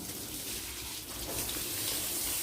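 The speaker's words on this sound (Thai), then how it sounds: "อุ้ยน้ำไหลมาแล้วนะน้ำไหลมาแล้วว้า" Water runs steadily from a tap in an even, hissing stream, fairly quiet and unbroken, with no voices over it.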